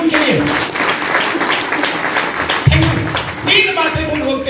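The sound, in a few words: seminar audience applauding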